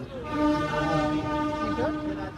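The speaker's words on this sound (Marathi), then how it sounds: "ट्रेन निघाली आहे" A train rumbles away from a Mumbai station on a Konkan Railway route toward Chiplun, with a sustained horn-like tone, steady and fairly close, as the carriages get moving.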